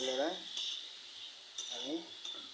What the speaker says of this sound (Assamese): মাংসটো ধুনীয়াকৈ আমি লৰাই দিলোঁ।